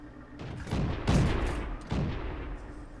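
Tank cannon fire in the video game World of Tanks: two heavy booming shots about a second apart, each with a long rumbling decay, loud and close.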